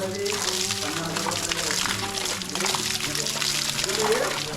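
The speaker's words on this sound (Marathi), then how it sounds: "सह्याद्री निर्मित धबधबा" Splashing, pouring water from a small Sahyadri mountain waterfall at Sudhagad fort close by, steady throughout, with people talking over it.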